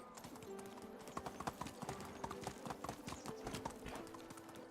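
A ridden horse in the medieval village game Medieval Dynasty clip-clops along in a steady trotting rhythm, its hoofbeats quiet and close over a soft ambient game bed.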